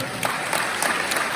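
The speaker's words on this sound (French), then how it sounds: "Est-ce qu'on peut applaudir le Seigneur?" Church congregation applauding during a worship service, a steady wash of many hands clapping that holds at an even level through the brief moment.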